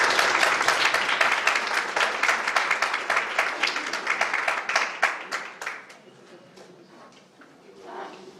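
Seminar audience on workplace harassment applauding the guest representatives, steady loud clapping that thins into scattered claps and fades out, followed by faint talk.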